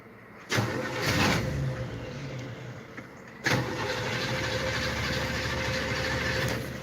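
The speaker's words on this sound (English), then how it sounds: "Let's see if it even crank up." An old vehicle's engine cranks briefly and catches, stops, then cranks again and settles into a steady, fairly loud idle that runs to the end.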